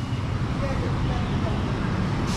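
Busy night road traffic with a bus passing, a dense steady roar of engines and tyres that stays loud and close throughout, without clear talk over it.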